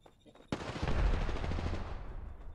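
Gunfire in the video game Apex Legends, a sudden burst of shots followed by rapid rattling fire that rolls on and gradually fades, fairly faint.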